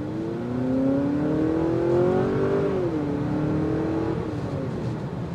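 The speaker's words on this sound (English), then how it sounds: "I do like the engine note that filters in when you give it a little go" A 2023 Honda Accord Touring accelerates from inside the cabin, its engine note rising steadily in pitch, briefly dropping at a shift, then settling into a smooth moderate hum.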